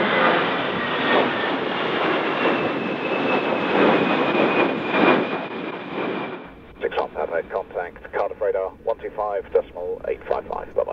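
A propeller airplane engine roars loudly at full power for about six seconds during a windy takeoff in Storm Eunice, then cuts to radio chatter with voices talking.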